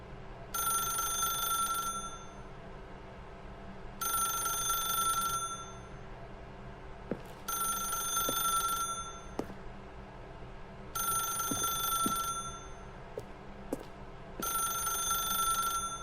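A telephone in The Stanley Parable rings in five evenly spaced bursts, each about a second and a half long with a bright electronic tone, over a low hum and faint clicks.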